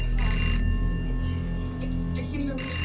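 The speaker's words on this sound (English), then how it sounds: "Just as she stood, the phone suddenly rang." A telephone bell rings in bright, repeated trills at the start and end, close and loud over a steady low background hum.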